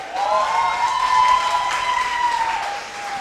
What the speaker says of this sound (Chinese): 我们谢谢掌声鼓励。